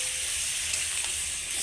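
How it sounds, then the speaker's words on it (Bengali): Chopped tomato hits hot spice masala in a pan, giving a steady, close, bright sizzling hiss with soft bubbling underneath that runs without a break. "এর মধ্যে আমি কেটে রাখা টমেটোটা দিয়ে দিচ্ছি"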